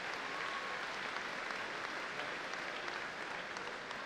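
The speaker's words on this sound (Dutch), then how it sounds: "Een groot applaus voor alle medewerkers." An indoor audience at the 2018 KFPS stallion inspection gives the staff a large round of applause: dense, steady clapping from a big crowd that carries on evenly for several seconds, with no voices over it.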